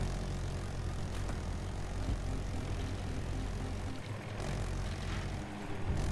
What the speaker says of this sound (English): you're in the helicopter again